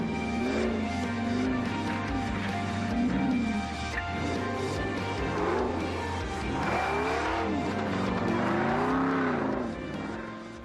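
A 4x4 off-road vehicle works through laps on an extreme jamboree course, its engine rising and falling in revs with rough surges over a steady rumble, fairly loud and continuous.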